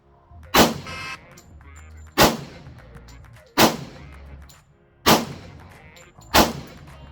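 Five sharp pistol shots ring out at bullseye target practice, spaced roughly one and a half seconds apart, each a loud crack followed by a short decaying echo, with no talking in between.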